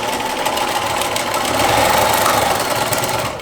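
A sewing machine stitches a zipper bag in a steady, fast mechanical whir with rapid needle clatter, close and continuous with no talking.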